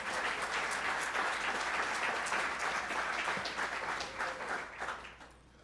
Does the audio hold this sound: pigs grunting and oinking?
no